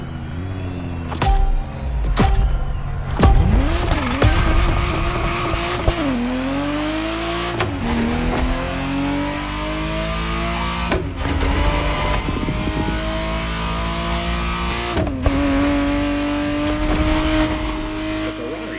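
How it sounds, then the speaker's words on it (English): A Ferrari Testarossa engine in The Crew Motorfest racing game, revving hard through repeated upshifts, each gear climbing in pitch before a brief drop, loud and close over the whole run. "The Ferrari Testarossa was quite the celebrity in her time."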